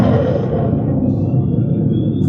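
Electric startup sound from a 2025 Dodge Charger Daytona EV Stage 2 with Fratzonic chambered exhaust: a loud, continuous deep synthetic rumble with steady low drone, held without a break and growing slightly rougher.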